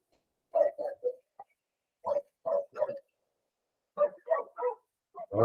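A pet dog barks in three quick clusters of two to four sharp, fairly close barks, with short silent gaps between the bursts.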